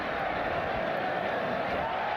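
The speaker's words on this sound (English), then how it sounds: "Listen to the crowd." A baseball stadium crowd during a Cincinnati game makes a steady murmuring roar, heard as a distant, even wash of many voices without distinct cheers or claps.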